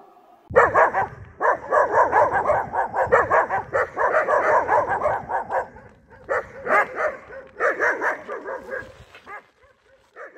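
Several stray dogs bark repeatedly in a loud, dense volley, yips and barks overlapping for most of the stretch, then thinning into a few scattered barks with short gaps before fading out.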